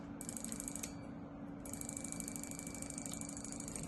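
A fuel injector fires on an injector tester with rapid, steady high-pitched ticking over a constant mechanical hum, faint and close, with a brief pause partway through.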